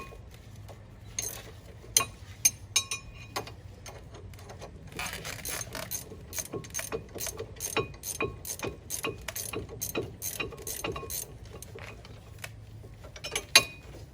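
A hand ratchet loosens brake caliper bolts on a Cadillac CTS, with scattered clicks at first, then a long run of quick, close, crisp clicking bursts and a final few clicks.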